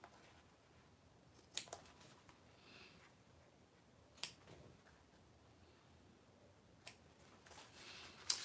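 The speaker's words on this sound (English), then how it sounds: "go back with my scissors and snip to the end of the line" Scissors snip fabric in three sharp, separate cuts a few seconds apart, close and crisp against a quiet studio background.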